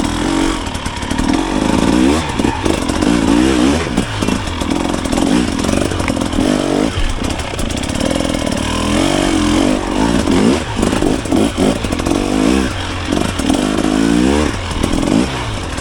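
A 2024 KTM 300XC-W two-stroke dirt bike rides hard terrain off-road, its engine revving and bogging in loud uneven bursts with rattling clatter, close to the rider and continuous throughout, with no speech.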